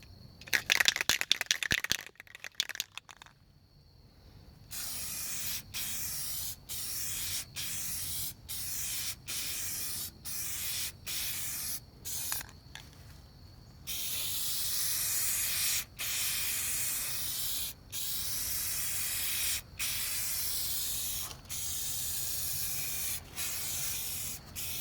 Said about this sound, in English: So we're going to spray this piece here and see how it looks.